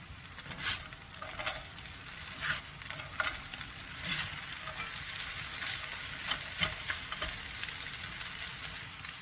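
Frozen mixed vegetables stirred into fried rice with beef in a hot pan give a steady sizzle under repeated scraping strokes of a utensil, moderately close and without talk.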